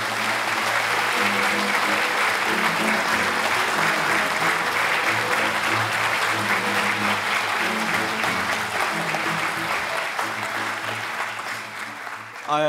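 Sustained audience applause welcomes a guest speaker at a launch ceremony and rally, a dense, loud wash of many hands clapping for over ten seconds before tapering off near the end, with faint background voices mixed in.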